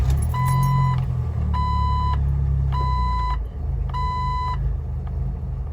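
A Jeep TJ engine, its throttle body and idle air controller just cleaned, idles steadily at about 800 RPM with a low, even rumble, while a loud electronic beep chimes in repeated bursts over it.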